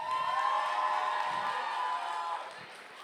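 A festival cosplay-contest audience applauds and cheers for the volunteers, a bright crowd roar with clapping that holds steady and then fades toward the end.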